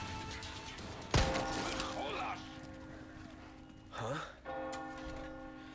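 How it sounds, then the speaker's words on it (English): A church bell sounds in the game Resident Evil 4 Remake, with a loud struck onset and a long ringing tail, another strike later and game noise around it. "There's the bell."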